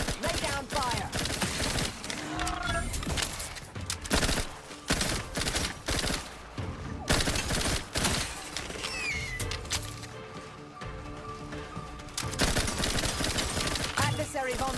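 Sci-fi gunfire in The Outer Worlds video game crackles in dense, repeated volleys of sharp shots through most of the stretch, with a louder flurry toward the end and some in-game voices in the background.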